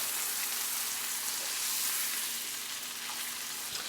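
A New York strip steak sears in a skillet with browning butter, a steady, loud, close sizzle holding unbroken from start to finish with no voices.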